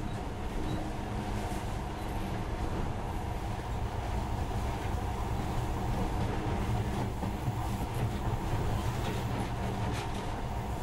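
A monorail train in the video game Metro: Last Light runs steadily, a dense continuous rumble and rattle that stays loud and even throughout with no speech.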